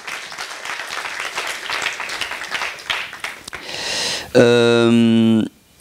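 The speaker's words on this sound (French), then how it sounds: "Bon, mais on l'applaudit quand même" Audience applause at a doctoral diploma and habilitation ceremony, clapping for about four seconds that gives way to a loud sustained tonal sound, with some voices mixed in.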